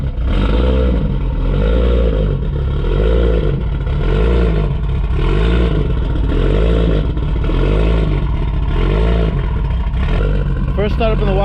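A built turbo Infiniti G35 engine idling loudly and close, a heavy steady rumble with a rhythmic surge about once a second as the idle hunts.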